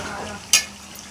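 Chicken and spice sauce sauté in a pan with a steady sizzle, broken by one sharp spatula scrape or clink against the pan midway.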